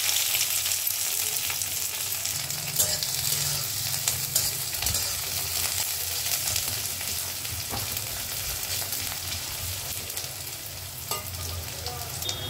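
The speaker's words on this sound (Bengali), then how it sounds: "পেঁয়াজ আর রসুনটা ভাজা হয়ে গেছে" Onion and garlic fry in hot oil in a kadai while being stirred for a red amaranth and prawn dish, giving a constant close sizzle with occasional spatula scrapes and no voices.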